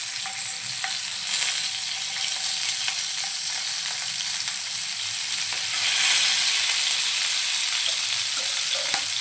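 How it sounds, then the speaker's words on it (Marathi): Stuffed green chillies, Malvani-style bharli mirchi, fry in a pan with a steady close sizzle and crackle that carries through alone, with occasional stirring or turning sounds. "आता आपण दुसऱ्या साईडने ही मिरची फ्राय करून घेऊया"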